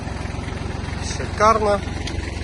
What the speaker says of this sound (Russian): Трактор работает мягко, приемисто, все хорошо.